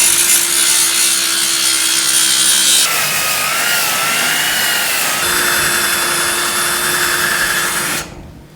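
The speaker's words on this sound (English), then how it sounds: "That is some undercoating or something. Let me get that sanded off" A power sander grinds undercoating off the bare metal body of a GTO restomod, a loud continuous abrasive whine that shifts pitch a couple of times before cutting off near the end, with no voices.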